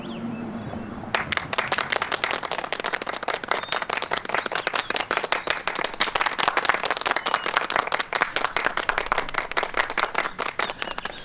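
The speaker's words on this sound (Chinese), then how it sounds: "大家鼓掌欢迎啊！" Group of staff clapping in an enthusiastic welcome at a company gathering in a rural setting, sustained brisk applause that starts abruptly and keeps going loud and even to the end.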